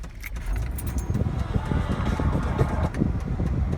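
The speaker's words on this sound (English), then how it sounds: "So we'll turn on the car." Keys jangle briefly near the start, then a 2002 Chevy's engine turns over and settles into a steady idle, close and continuous with a low rumble throughout.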